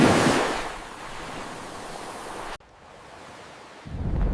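Soft rushing wash of a calm ocean surface, gentle waves swelling and receding, with an abrupt cut midway before the surf noise returns louder.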